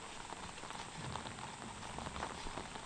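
Rain beginning to fall on a farm, a steady, dense patter of drops on surfaces close by, continuous and fairly even with no voices.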